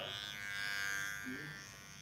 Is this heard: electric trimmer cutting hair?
yes